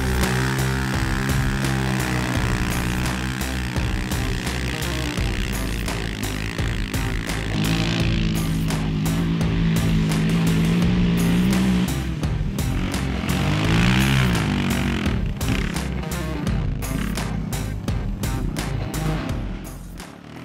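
A light, nimble Polaris side-by-side UTV races through slippery, muddy paddock corners, its engine droning loud and continuous, rising and falling in pitch as it accelerates and slows, with scattered splashes and thumps.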